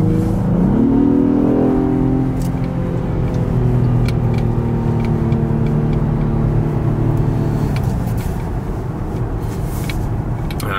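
The six-cylinder engine of a 2019 Acura TLX A-Spec revs up and pulls steadily, its pitch climbing then holding, loud and close throughout with no talking.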